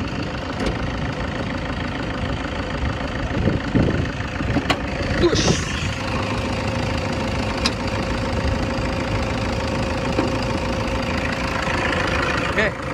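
A 2014 Toyota Fortuner 2KD D4D diesel engine idles with a steady low clatter, hood open, with occasional background voices and some brief clicks.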